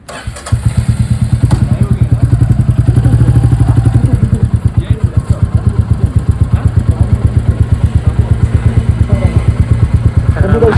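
A motorcycle engine runs loud and close in a fast, steady rhythmic thump, with no speech over it, while the bike rides along a road on the way to Raichur.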